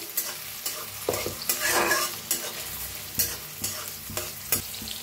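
Finely chopped onion frying with roasted cumin in a pan for bottle gourd curry, a loud steady sizzle punctuated by regular rhythmic scraping strokes of a spoon against the pan, no speech.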